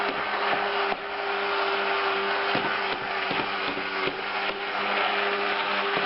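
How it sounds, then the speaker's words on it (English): A stick blender purees soaked rice for rice milk, its motor whirring loud and steady throughout with brief dips in pitch as the blade hits chunks. "I love this stick blender."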